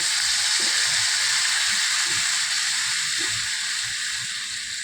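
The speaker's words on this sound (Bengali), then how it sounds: "কষানো হয়ে গেছে, এখন আমি জল দেব।" Fried spice paste of salt, ginger and turmeric sizzling in a pan, with water just added, making a loud continuous hiss and crackle and soft stirring clinks underneath.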